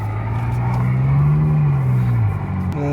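A Ford Ranger straining while stuck off-road, its engine revving up and falling back as the tone rises then drops, loud and close over a few seconds.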